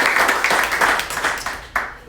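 An indoor audience applauds steadily, dense clapping close by that gradually thins out over two seconds.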